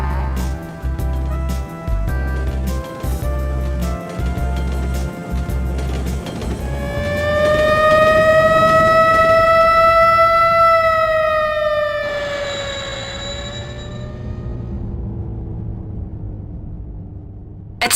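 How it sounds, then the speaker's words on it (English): A local train pulls into a station in the PS2 game Robot Alchemic Drive, with rhythmic rumbling clatter that gives way to a loud sustained rising then falling whistle-like tone, which fades out slowly as the train comes to a stop. "Arriving on track 1 is a local train bound for Senjo."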